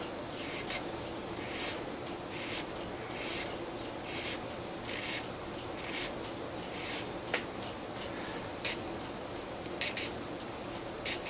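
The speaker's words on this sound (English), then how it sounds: "Just let the file do all the work for you." Hand file rasping across a resin model kit part, a Gundam Zaku piece, in short repeated strokes with brief pauses between them, fairly close and moderately quiet, with no talking.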